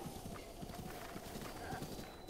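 Horse hooves clip-clopping with a whinny in The Legend of Zelda: Breath of the Wild, a quiet rhythmic patter of hoofbeats with a short neigh partway through, faint and close.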